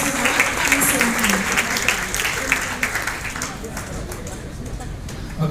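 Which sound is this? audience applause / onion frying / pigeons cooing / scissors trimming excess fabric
audience applause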